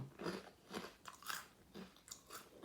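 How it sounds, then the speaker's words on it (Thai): Close crunching bites into a crisp Japanese senbei rice cracker, several sharp crackly chews in an uneven rhythm, with no talking. "ได้ยินเสียงกรุบกรอบนะคะ"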